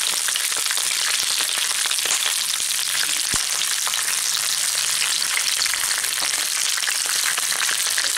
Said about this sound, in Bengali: এইভাবে ঘুরিয়ে ঘুরিয়ে আমি চিচিঙ্গেগুলোকে ভালো করে একটু ভেজে নেব